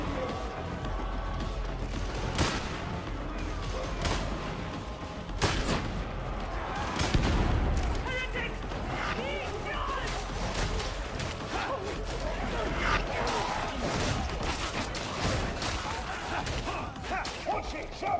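Revolver shots are hip-fired in the video game Darktide: sharp, repeated gunshot cracks in a fast, uneven rhythm over a dense, noisy battle mix with booms and clatter throughout.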